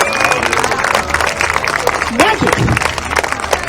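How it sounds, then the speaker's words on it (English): An outdoor audience at a street performers festival applauds a street magician's handkerchief trick, giving sustained clapping and crowd noise while a man exclaims loudly over it. "clap your hands, folks!"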